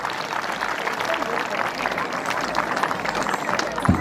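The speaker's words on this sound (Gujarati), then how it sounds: "તાળીઓના ગડગડાટથી દીકરીને વધાવી લઈએ." An audience at a school function in Gagalasan, Gujarat claps for a student receiving an honour, a dense steady patter of many hands filling the hall, with voices mixed in.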